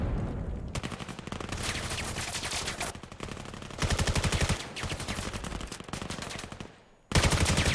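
Sustained automatic gunfire in the VR shooter game VAIL, loud and close, with long rapid bursts broken by brief gaps and a sudden renewed burst near the end.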